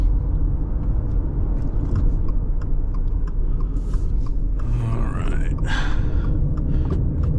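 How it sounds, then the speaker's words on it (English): A 2025 Subaru Forester Premium accelerates at full throttle from inside the cabin, a steady loud engine and road rumble droning throughout with a brief breathy sound partway through. "Give it the full throttle."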